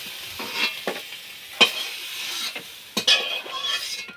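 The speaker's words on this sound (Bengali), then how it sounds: "মাছের মাথাটাও ভেজে নেব" Fish heads from a freshly caught pond katla frying in oil in a kadai, heard as a close, continuous sizzle with repeated scraping stirs and a few metallic knocks against the pan.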